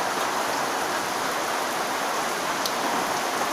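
Torrential rain from a storm falls in an unbroken roaring wash, near and steady throughout, with a faint hint of distant thunder.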